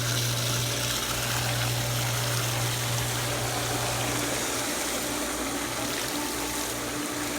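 A pool pump runs during a filter backwash, giving a loud, steady rushing of water with a constant mechanical hum and no pauses.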